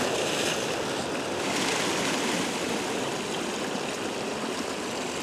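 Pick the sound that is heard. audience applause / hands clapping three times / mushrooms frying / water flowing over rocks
water flowing over rocks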